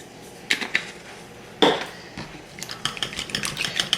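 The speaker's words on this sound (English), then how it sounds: "Whisk that all up." Eggs and spices are whisked in a bowl, with quick metallic clinks and scrapes of a utensil against the dish. The strokes come in short bursts, close and fairly quiet, with no voices.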